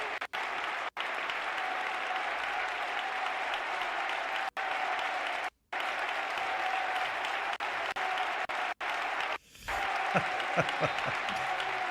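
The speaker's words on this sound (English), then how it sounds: "the ironic mock applause for the referees who had blown the whistle in favor of Avenida" A crowd at a women's EuroLeague basketball game gives the referees a long stretch of ironic mock applause, steady and loud. It stops briefly at points, then drops away into arena noise near the end.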